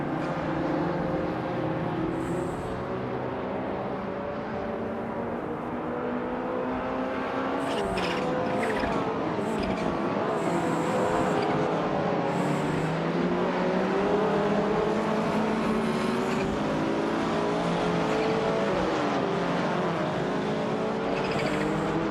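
Racing engines drone and whine continuously as cars circle during a race that includes a 1985 Toyota Corolla Levin, with several cars sweeping past and rising and falling in pitch.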